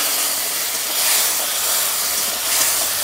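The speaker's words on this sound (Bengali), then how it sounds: "দিয়ে আমি একটু জল ঢেলে দিচ্ছি, নাহলে তেলের উপরে তো মশলাটা পুড়ে গেলে" Water poured into hot oil with spices in a pan, giving a loud, dense, continuous hiss and sizzle that swells slightly in brief surges.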